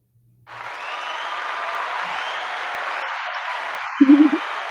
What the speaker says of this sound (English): You get an applause.